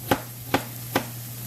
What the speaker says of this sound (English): All those peppers, they're easy to cut because they're frozen.